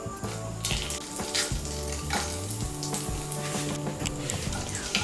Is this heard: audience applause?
no